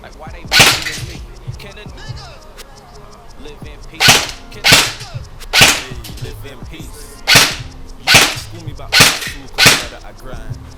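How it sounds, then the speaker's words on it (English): A Specna Arms SA-H02 airsoft rifle fires single shots on a home firing range, each a sharp, loud crack spaced roughly half a second to a second apart. There are about eleven in all, clustered mostly in the second half, and no one speaks. "I'm gonna try maybe about 20 shots on single, and then we'll mag dump as well right near the ending."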